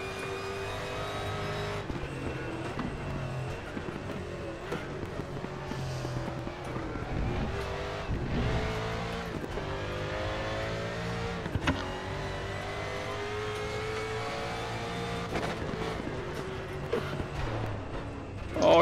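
A Mercedes DTM race car in the RaceRoom racing game revs hard and continuously through gear changes, the engine pitch climbing and dropping with occasional tire squeal, loud and close throughout.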